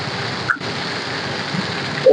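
Steady, dense rainfall in a windy storm hisses close by throughout, with a faint bump partway through.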